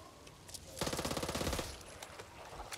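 Rapid automatic gunfire in Back 4 Blood, a close burst of evenly spaced shots lasting under a second against a background of game noise, with faint clicks before and after.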